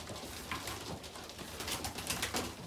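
Racing pigeons being fed in a loft coo and shuffle softly, a faint, continuous texture of low calls and movement.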